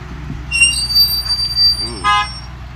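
A San Francisco train or cable car brakes on a city street, giving a high metallic squeal with steady tonal bands that swell twice over low rumbling traffic, close by and fairly loud, with a faint voice in the background.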